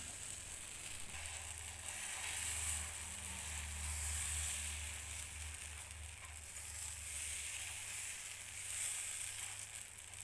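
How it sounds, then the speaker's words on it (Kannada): Wheat and banana dosa batter spread on a ghee-greased pan gives a steady, moderately loud sizzle that holds throughout with gentle swells, alone with no talking. "ಈಗ ಒಂದೊಂದೇ ದೋಸೆ ಹಾಕ್ಬಿಡ್ತೇನೆ"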